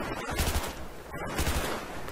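Rapid automatic gunfire from the video game Battlefield 3 comes in two short, loud bursts over a dense, noisy battlefield din, with no voices.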